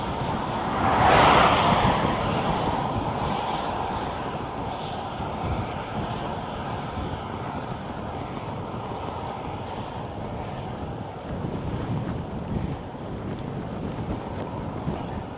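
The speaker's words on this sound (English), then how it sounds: "Settle down, wind." Wind buffeting a microphone during a solar-powered bike ride in Lithuania, a continuous low roaring rumble with a louder gust near the start, steady throughout with no talking.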